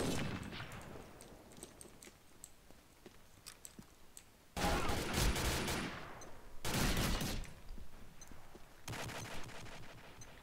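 Automatic gunfire in the online shooter Combat Arms, with scattered single shots and then two long, loud bursts of rapid spraying fire close up, followed by a quieter burst.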